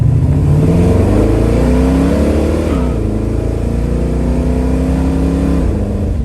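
A 1970 Chevrolet Camaro engine revs loudly up close, its pitch climbing and dropping as it shifts through the gears while accelerating.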